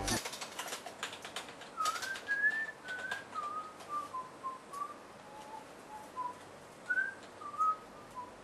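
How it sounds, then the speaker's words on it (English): Someone whistles a wandering tune of short separate notes, close and fairly clear, with a few clicks near the start. "Stop whistling!"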